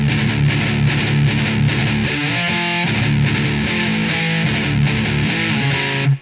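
Heavily distorted electric guitar plays the intro riff of a song at full speed, dense and loud with rapid palm-muted chugs and sustained chords, no voices.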